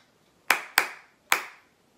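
Hand clapping a rhythm during a community primary school music session: three sharp, close claps, with two in quick succession and a third after a short pause, heard alone with no talking.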